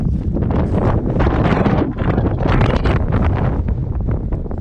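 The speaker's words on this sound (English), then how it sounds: "It's very windy up here." Strong, steady wind buffets the microphone on an exposed mountain summit in Wales, a loud continuous roar with gusty swells and no voices.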